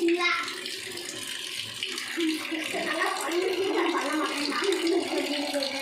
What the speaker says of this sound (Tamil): பச்சை தண்ணி போட்டு அந்த நூடுல்ஸை வந்து இது பண்ணணும், கழுவணும்.